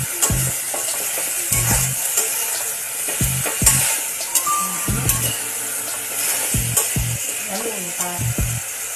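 Chicken tinola cooks in a pot as it is stirred, the utensil scraping and clinking against the pot in irregular strokes over a continuous close sizzle, with no talking.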